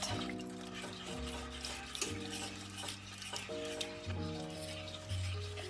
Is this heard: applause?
no